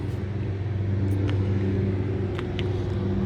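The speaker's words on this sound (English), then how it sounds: "Runs good, starts right up, idles well, doesn't smoke." A 1972 Chevrolet Blazer K5 engine runs at a steady idle, a close low rumble with a few light clicks on top.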